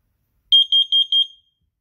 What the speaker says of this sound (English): You're gonna get these three dash, four beeps, 5 seconds of silence, and then four beeps again.